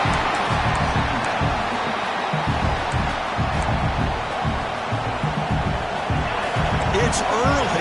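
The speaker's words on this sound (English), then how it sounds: "It's early, but this crowd is fired up. Listen to this noise here." A loud, roaring stadium crowd at an NCAA football game keeps up a dense wall of noise throughout, with shouts and cheers rising within it.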